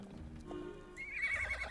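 A horse in the Star Stable video game clip-clops, then lets out a sharp, high whinny near the end, brief and fairly faint, with no talk.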